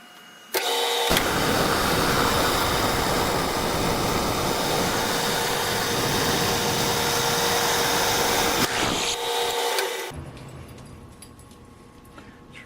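A metal shaper machine taking a cut during a shaper nut repair, a loud continuous grinding mechanical drone lasting about nine seconds, starting and stopping abruptly, then a quieter idle hum.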